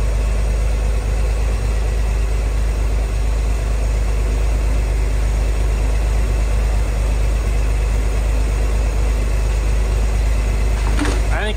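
A 1963 Chevrolet Corvair engine, with an exhaust leak and dirty oil, idles loudly and steadily, a constant low rumble throughout with no breaks.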